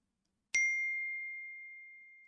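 A single bright notification bell ding rings out clearly and alone, then decays slowly into silence.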